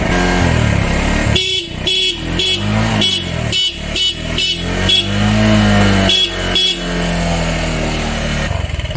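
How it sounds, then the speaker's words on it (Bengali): Loud horn of a Bajaj Discover 135 motorcycle honks repeatedly in short bursts over a running engine's steady hum. "হর্ন বাজাও"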